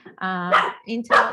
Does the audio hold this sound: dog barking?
yes